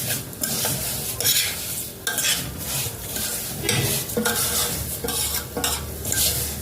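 Vermicelli being stirred and browned in a pot for Egyptian rice: steady scraping stirs with a spoon against the pot over a continuous sizzle, close up, with no voices.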